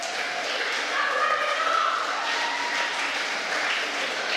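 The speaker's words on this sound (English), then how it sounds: "I'm glad that got the applause that it deserved" An audience applauds steadily at a Green Party address in Wellington, a broad wash of clapping hands that holds for several seconds at fairly close range.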